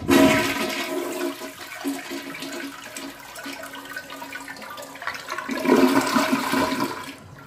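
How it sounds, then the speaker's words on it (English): A toilet flushing in a loud rushing surge, settling into a lighter trickle and then swelling again into a second strong gush of water before it fades. "'Tis time to go down the flusher tube."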